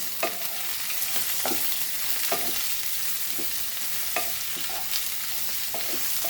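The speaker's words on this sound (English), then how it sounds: "And fry this onion nicely." Onion and green chilies stir-fry in a pan for a Goan spring onion bhaji, a continuous close sizzle broken by repeated clinks and scrapes of a spatula every second or so.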